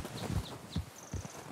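Horse hooves clip-clop at a walking pace in Red Dead Redemption 2, a few heavy, fairly close footfalls in an uneven rhythm, with a faint thin tone in the background.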